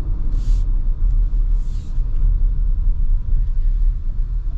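Steady low road rumble from inside a 2024 Toyota Grand Highlander while driving, loud and continuous with a few faint higher swishes.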